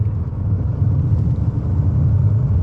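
A Ford Escape three-cylinder engine drones steadily from inside the cabin, a low, slightly rough, somewhat diesel-like rumble that holds under acceleration.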